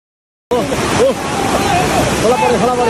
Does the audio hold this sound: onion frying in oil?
no